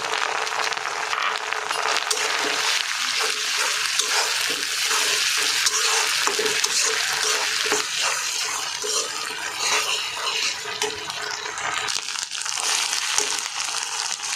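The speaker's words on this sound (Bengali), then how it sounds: "তার আগে একটু পানি দিয়ে দিলাম যাতে মশলাটা পুড়ে না যায়।" A splash of water hits frying onions, ginger-garlic paste and whole spices in a beef biryani pan, giving a loud, continuous hissing sizzle that holds steady throughout, close up with no talking.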